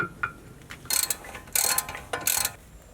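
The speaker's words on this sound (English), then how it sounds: "You gotta make sure you screw it in." Rotor retaining screw on a BMW 135i brake hub being driven in, heard as several bursts of close metallic ratcheting clicks separated by short pauses, with no talk.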